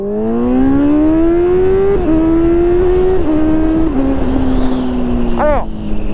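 A 2019 Honda CBR650R with an Arrow exhaust accelerates hard and snaps through several quick upshifts, the pitch climbing and dropping at each shift, loud and close over wind rush.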